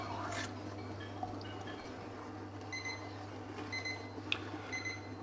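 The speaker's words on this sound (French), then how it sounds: "là vous l'entendez, je suis arrivé à 90 degrés, ça sonne" A cooking thermometer beeps its alarm on reaching 90 degrees while a sugar candy mixture for bees heats, bursts of high repeated electronic beeps over a steady low hum, no talking.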